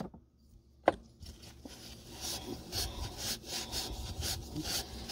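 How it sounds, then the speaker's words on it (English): A Scotch-Brite pad scrubs copper pipe clean in quick, rhythmic rasping strokes, close and moderately loud, preceded by a single sharp knock. "you're going to take the Scotch-Brite pad and you're going to clean that up really,"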